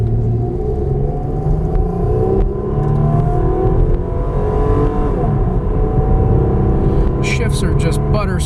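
A 1998 Toyota Camry LE V6 accelerates uphill from a standstill, its engine droning with a loud, rising rumble heard from inside the cabin, with smooth gear changes and a voice talking over it.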